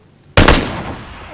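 A single sharp, loud AK rifle shot in the video game PUBG (Battlegrounds), followed by a brief echoing decay, close and punchy.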